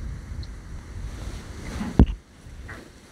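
Strong wind gusts steadily by open water, buffeting the microphone with a low rumbling roar and one sharp thump partway through, with no voices.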